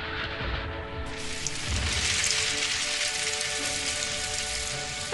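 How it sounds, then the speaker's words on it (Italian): Rain begins falling outdoors in a cartoon scene, a steady broadband patter swelling after a brief lead-in and continuing evenly, with no one talking. "Ha iniziato a piovere."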